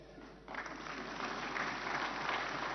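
An audience breaks into applause after a short quiet moment, building into steady, fairly close clapping that carries on to the end.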